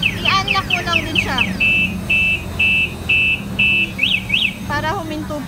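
Hunk V2 car alarm system sounding loud and close: rapid warbling sweeps, then a run of steady repeated beeps, then more sweeping tones, with someone talking underneath.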